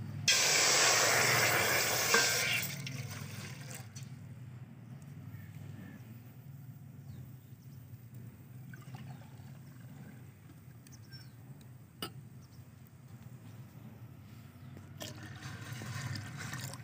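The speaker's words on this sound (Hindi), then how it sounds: "जो सबसे पहले इसमें 4 गिलास पानी डालेंगे।" Water poured into a cooking pot for apple murabba, a loud broad hissing gush for about the first two and a half seconds, then fading into a low quiet room hum.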